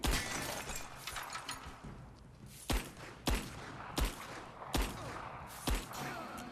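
Revolver gunshots in the video game Rise of the Tomb Raider, a magnum-type handgun: five loud, sharp reports at roughly even intervals, set over a busy, noisy game background.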